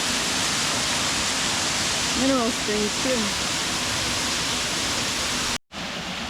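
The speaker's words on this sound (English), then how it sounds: "because of all the rain today, that waterfall is really flowing." Loud, steady roar of a rain-swollen waterfall in a grotto, filling the space, with a brief spoken remark partway through before a short cut.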